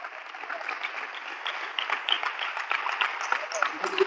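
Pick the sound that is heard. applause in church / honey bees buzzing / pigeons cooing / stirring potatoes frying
applause in church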